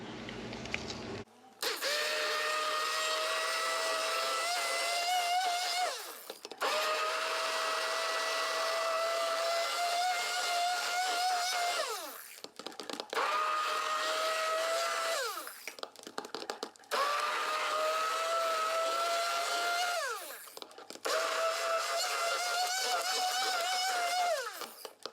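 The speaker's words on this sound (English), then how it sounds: "This is the immersion blender." An immersion blender whirs through tallow shaving soap in several long bursts, its high motor whine rising slightly in pitch, stopping and restarting between runs.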